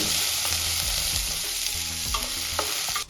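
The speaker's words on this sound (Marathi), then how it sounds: "इथे आपल्याला कांदा छान सॉफ्ट होईपर्यंत परतून घ्यायचा आहे" Onions sauté in a hot pan with cumin for masala stuffed idli, giving a loud steady sizzle and frying hiss with a few spatula scrapes and stirs, close and without talk.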